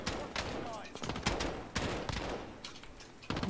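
Rapid bursts of video game gunfire, a dense fusillade of shots rattling out close by with uneven rhythm, mixed under people talking.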